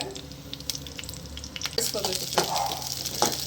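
Slit green chillies fry in hot oil in a pan, a close, bright sizzle that swells louder partway through, with stirring scrapes and spattering crackles.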